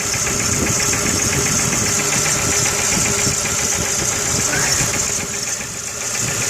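A car engine idles roughly with a suspected misfire, producing a steady, uneven mechanical knock and vibration throughout, close to the listener.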